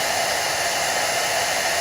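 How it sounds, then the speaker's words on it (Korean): A hair dryer for damaged hair, with sensor-controlled airflow that alternates hot and cool air, blows a steady, loud, continuous rush of air with no pauses and no voices. "이 드라이기는 이렇게 켜놓고 가만히 기다리고 있으면"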